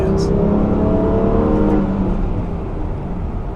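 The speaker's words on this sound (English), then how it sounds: "boxer deal, and it's a 6-cylinder boxer, so these are just typically really smooth engines." The six-cylinder boxer engine of a 2017 Subaru Legacy hums as a steady, smooth, low drone while the car drives, with road and cabin noise and no sharp revving.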